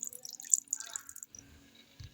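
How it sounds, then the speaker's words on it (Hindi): Water goes into a spice mixture of chili sauce, white vinegar and food colour for a Kathiyawari aloo recipe, heard as scattered close drips and splashes followed by a brief louder splash at the end. "इसमें डालेंगे 1/4 कप पानी।"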